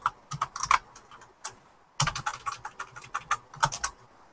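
Bursts of rapid typing on a computer keyboard during a gaming session, clustered key clicks with a brief pause near the middle, fairly close and alone without talk.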